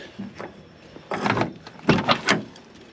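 The door of a 1967 Camaro under teardown is worked open, with stiff metallic creaks, scrapes and clunks in several uneven bursts, close and moderately loud.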